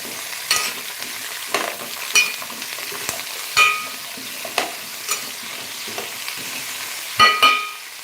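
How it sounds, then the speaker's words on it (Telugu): Sweet pumpkin pieces fry in oil under a steady soft sizzle, while a spoon stirs and scrapes the pan in intermittent clinks and knocks, several louder strikes spaced a second or so apart. "ముందు ఆయిల్ పెట్టుకొని గుమ్మడికాయ ముక్కలు పెట్టుకొని"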